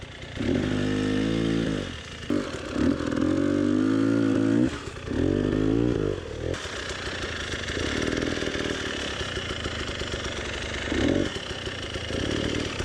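Dirt bike engines on a forest trail slope in Watagan State Forest, NSW, with Yamaha WR250R, KTM, Beta and Husqvarna bikes: a close engine revs hard in repeated rising surges, then settles into a steadier buzzing drone, with no talk.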